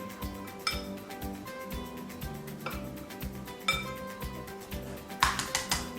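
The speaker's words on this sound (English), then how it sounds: "Give that a good mix in, and then you're ready to bind it together with the egg and some milk." Dried fruit is stirred into rock cake mixture in a mixing bowl, giving a run of close clinks and scrapes of a utensil against the bowl, repeated in a steady rhythm across the clip.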